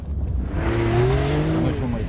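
A Delta 4x4 off-road Porsche 911 of the 992 generation accelerates hard, its engine note rising in a steady loud drone with climbing harmonic tones over about two seconds, close and continuous, with some tire and wind noise underneath.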